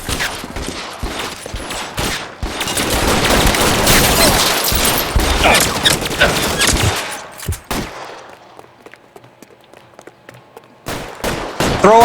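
Loud, sustained machine-gun fire and rapid gunshots from an L.A. Noire shootout, dense bursts for several seconds, then quieter scattered shots before heavy firing resumes at the end.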